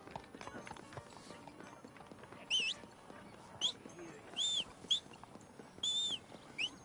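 Horse hooves clop and patter in Red Dead Redemption, faint and irregular, mixed with short high chirps and squeaks against a quiet outdoor game ambience.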